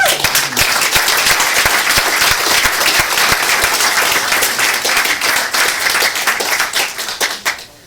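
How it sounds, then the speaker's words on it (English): Loud, close applause from a city council meeting crowd greets a woman called up for a proclamation, a dense, even clatter of many hands that holds steady and fades only in the final second. "Give her a round of applause."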